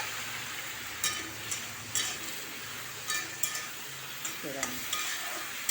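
Brinjal and tomato pieces fry in a pan with a steady, close sizzle, broken by several sharp clacks and scrapes as a spoon stirs them at irregular intervals.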